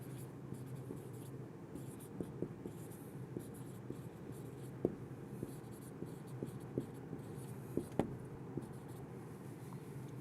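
A pen scratching and tapping on paper or a board during an English grammar lesson, a quiet run of short strokes and taps in a calm room, with no talking.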